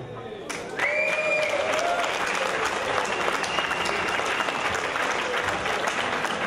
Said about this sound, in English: a big round of applause for all the nominees